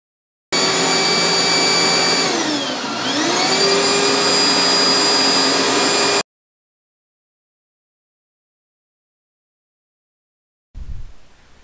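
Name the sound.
vacuum cleaner running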